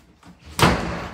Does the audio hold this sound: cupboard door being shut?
yes